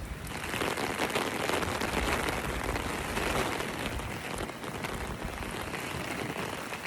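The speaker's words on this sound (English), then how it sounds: "This rain came out of nowhere for real." Rain pours steadily in a dense, even hiss, close by with no letup and no voices.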